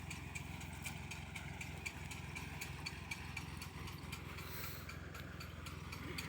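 A tractor-driven shaker works a walnut tree during harvest, its engine running in a constant rattling drone with rapid regular mechanical pulsing, steady and moderately distant throughout.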